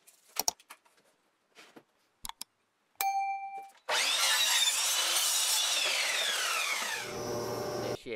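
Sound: saw cutting wood for shelves

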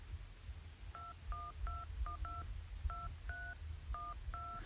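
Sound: phone keypad tones playing a melody

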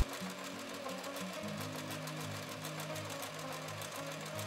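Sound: sewing machine seaming a doll skirt hem

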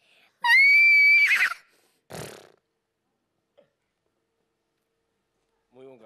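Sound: child imitating a horse neigh

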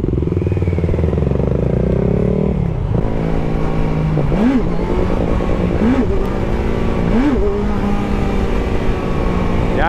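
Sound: motorcycle accelerating and shifting into second gear

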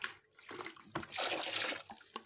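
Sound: rinsing a bucket with water

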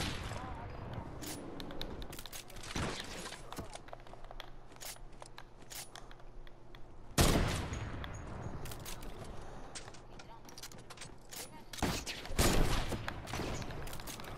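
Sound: gunfire in Fortnite video game

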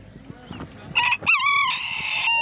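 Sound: Swedish breed chickens and rooster at a poultry market

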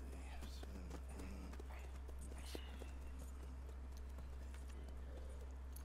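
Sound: horse hooves walking in Red Dead Redemption 2 video game

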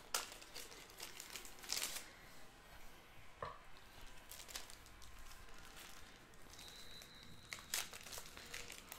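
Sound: crinkling plastic card sleeve bags

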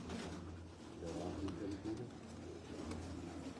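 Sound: pigeons cooing

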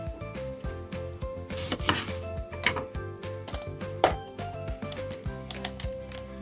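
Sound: cutting a lemon and squeezing its juice

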